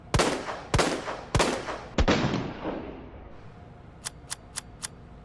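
A handgun in Resident Evil 2 Remake fires regular 9mm rounds, four loud, evenly spaced sharp shots, each with a ringing tail, followed by four quick light metallic clicks.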